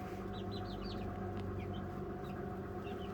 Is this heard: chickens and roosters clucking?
yes